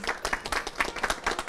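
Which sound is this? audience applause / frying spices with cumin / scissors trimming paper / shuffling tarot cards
audience applause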